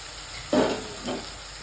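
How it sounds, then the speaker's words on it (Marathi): Onion and tomato sauté in a pan for pav bhaji: two short bursts of sizzling and stirring, the first louder, over a quiet background with no talk. "कांदा टमाटा आपला चांगला परतून झालेला आहे"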